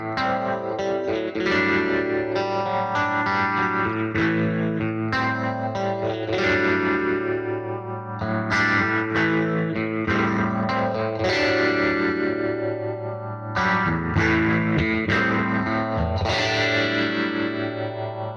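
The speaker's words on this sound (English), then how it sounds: "Tremolo, reverb, and phaser and delay." Electric guitar played through a Fender '68 Custom Vibro Champ Reverb amp with tremolo, reverb, phaser and delay, picking an old riff in distorted, shimmering chords that ring out loud and steady, with brief gaps between phrases.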